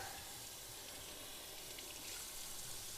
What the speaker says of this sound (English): I'm gonna take and rinse some of this off.